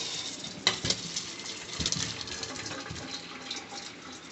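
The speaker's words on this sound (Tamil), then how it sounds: "வாழைக்காய் நல்லா வெந்துருச்சு. இனி நம்ம வடிகட்டலாம்." Boiled raw plantain is drained, with water splashing and pouring in a short, close burst that trails off into a softer trickle.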